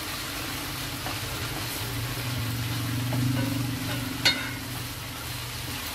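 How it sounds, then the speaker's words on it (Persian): Tomato paste fries in a pan for an Iranian-style macaroni dish, a soft continuous sizzle with faint scraping as it is stirred and one brief clink near the end, quiet and close with no voices. "دیگه نوبت روب رو بزنین، سرخ کنین."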